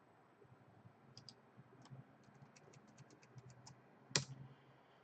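Quiet, close taps on a computer keyboard come in a loose run of separate keystrokes, followed by one sharper click near the end.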